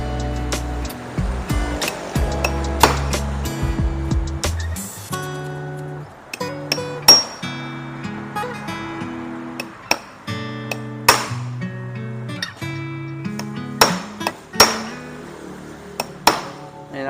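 Metal part of an electric fan motor hammered in with a flat tool, tapped point by point as a fan with a blown thermal fuse and worn shaft is repaired: sharp, close, irregular clinks and knocks over a low hum.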